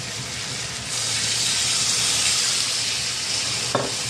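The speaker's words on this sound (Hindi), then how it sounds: "साथ ही हम इसमें ऐड कर देंगे तकरीबन 1 गिलास पानी" A steady hissing sizzle as about a glass of water hits potato pieces frying in a pan for dhaba-style aloo kutliyan, rising after a second and holding, with a brief clink near the end.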